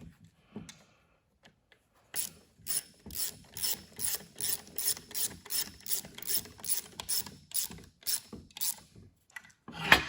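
A hand ratchet tightening bolts on a Delco Remy 10SI/12SI alternator case, a steady run of loud, close, rhythmic clicking strokes after a few quiet taps.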